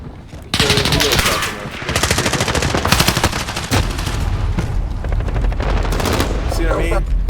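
Heavy, sustained automatic gunfire in a Call of Duty video game, loud rapid bursts overlapping one another almost without pause, with game voice callouts mixed in underneath.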